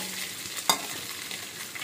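Chicken pieces frying and being stirred in a wok for a pasta dish, a steady soft sizzle with one sharp scrape or clatter partway through.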